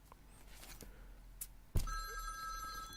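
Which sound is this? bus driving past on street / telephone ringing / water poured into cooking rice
telephone ringing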